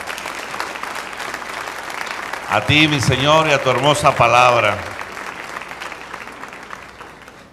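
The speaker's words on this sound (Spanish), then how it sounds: "Vamos a darle un fuerte aplauso" A church congregation applauds in a steady wash of clapping while a voice sings or speaks loudly over it midway, the clapping carrying on beneath and fading toward the end.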